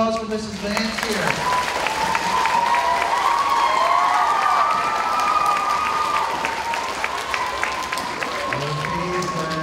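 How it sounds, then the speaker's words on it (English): An audience claps steadily at a school closing reading event for a One School One Book program, sustained applause filling the room for most of the stretch with a few faint voices mixed in, tapering slightly near the end. "How about a round of applause for Mrs."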